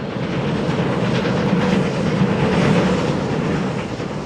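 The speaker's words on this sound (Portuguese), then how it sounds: "O trem avança heroicamente por paisagens costeiras espetaculares" The Outeniqua Choo-Choo train runs on rails between Knysna and George in South Africa, a loud continuous rumble of wheels and carriages with steady rhythmic clatter and no voices.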